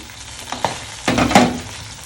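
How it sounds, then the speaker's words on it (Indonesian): Cut bamboo shoots dropped into a pot of boiling water and stirred, with a couple of soft splashes followed by a stretch of bubbling, clattering stirring, close and moderately loud. "Di sebelah kanan air sudah mendidih, saatnya saya memasukkan rebung yang sudah dipotong dan dicuci bersih."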